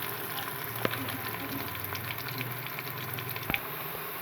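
Onions frying until brown in a pan make a soft, even sizzle that runs throughout, with a couple of light clicks from a utensil, close and fairly quiet.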